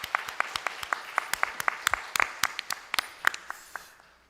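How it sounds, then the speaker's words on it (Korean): Congregation at a Sunday morning church service in Korea claps in praise, a moderate crowd whose distinct, sharp claps ring out at a lively pace before thinning and fading toward the end. "우리 하나님께 예배 받으신 하나님께 영광의 박수를 돌려드립니다"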